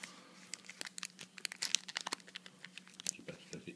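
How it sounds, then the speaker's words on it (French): A Sony Xperia Z phone box is unwrapped up close, with quick bursts of crinkling and tearing plastic wrap and paper, soft rustles between them, and a quiet voice murmuring in the background. "Donc je vais déballer le Xperia."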